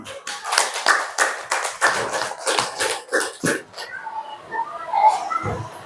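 Clapping hands from a class of children in a lesson on good character, a burst of close, sharp claps running for several seconds before fading into quieter children's voices and movement.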